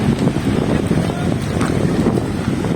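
Two boats move over water, with strong wind roaring steadily across the microphone throughout, waves strong, in Vizcaya, Iloilo.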